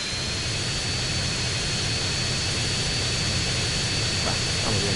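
The Hydra VTOL jet in GTA San Andreas gives a loud, continuous jet engine roar with a steady high whine, unbroken throughout and heard alone with no voices.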